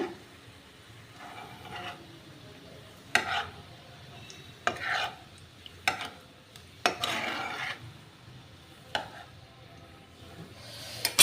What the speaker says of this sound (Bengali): এদিকে তেজপাতা দিয়ে দিলাম তেজপাতা দিলাম একটু সাদা জিরে দিলাম